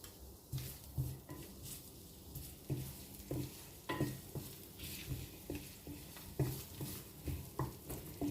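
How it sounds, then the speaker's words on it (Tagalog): Garlic sautés in a hot pan, sizzling steadily while a utensil stirs and scrapes at an even rhythm of sharp knocks against the pan, close and clear, with no talk. "Start na po tayo maggisa ng ating bawang"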